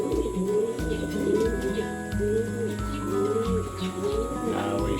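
Racing pigeons coo outdoors, one just back from a race being harassed by another; steady overlapping throaty coos and soft squabbling calls continue throughout at close range.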